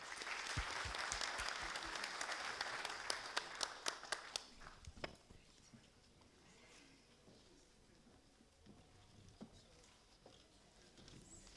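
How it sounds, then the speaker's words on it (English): Applause from a conference audience follows a panel discussion, a dense burst of clapping that thins to scattered claps and fades into room noise. "I'd like for you to give the panelists a round of applause as well as yourselves."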